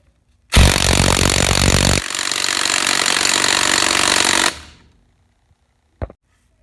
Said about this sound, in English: The 36 watt hour Makita actually felt way heavier duty as far as the impacts than this 54 watt hour no name.